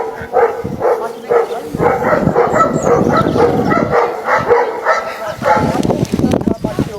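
Barks from two dogs kept on a British property with chickens and goats ring out in a steady run of repeated yaps, mixed with whimpers and heard alongside people talking nearby.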